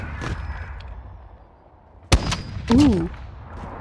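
Gunshots ring out in a video game gunfight, a few sharp isolated bangs spaced apart with a short burst near the end, alongside a brief voice.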